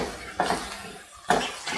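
A utensil scrapes and clinks twice against a pan as white vinegar and soy sauce are stirred together for chicken macaroni. The short metallic knocks are close and separated by a quiet pause.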